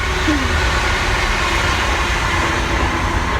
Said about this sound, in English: Extend as the train passes by.